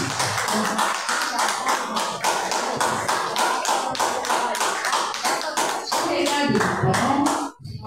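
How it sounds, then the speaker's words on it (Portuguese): A church congregation claps together in a loud, steady, rhythmic burst that carries on throughout and cuts off abruptly just before the end. "Vamos aplaudir Jesus."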